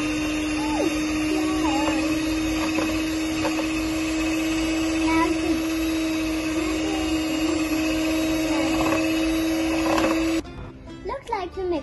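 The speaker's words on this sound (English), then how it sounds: "Looks like the mixer's ready." An electric mixer whirs steadily while blending cake batter of water, oil, egg and chocolate cake powder, holding a loud, even motor drone for about ten seconds before cutting off. Someone talks near the end.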